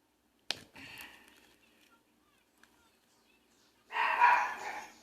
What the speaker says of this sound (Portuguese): a minha cachorra latindo, que ela vê algo e começa a latir